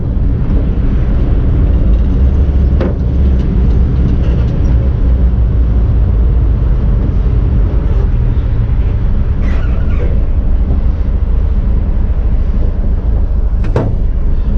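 A 1961 Volkswagen bus with a manual transmission cruises on a highway, its steady loud engine drone and road rumble continuous throughout, with occasional brief clicks and rattles over the top.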